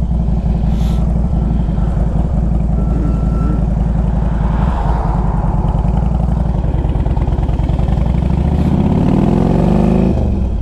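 A 2005 Harley-Davidson Road King Classic motorcycle engine rumbles loudly and close with a deep lumpy idle, then revs up toward the end, alone without talk.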